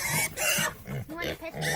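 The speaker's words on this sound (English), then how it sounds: "They're magical pigs." A pig oinks on a farm during an animal tour, with several short grunts close by mixed in among people talking.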